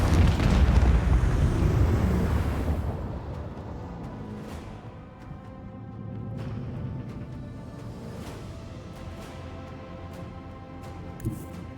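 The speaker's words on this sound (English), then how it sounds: "Oh, I can get him with the torpedoes." Torpedo explosions in the Warhammer 40,000 Rogue Trader video game open with a heavy, rumbling blast that slowly decays into a long crackling, ringing tail and scattered sharp debris ticks.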